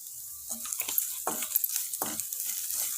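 Onions sautéing in a pan for a gram-flour evening snack, with soft sizzling under intermittent scrapes and stirs of a spoon, a few louder strokes standing out against a steady hiss.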